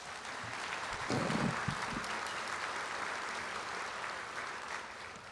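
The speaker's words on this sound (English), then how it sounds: "Give yourself and Mary Sue a round of applause" Applause fills a luncheon room as attendees clap together, a steady wash of many hands at moderate distance, with a brief low voice near the start.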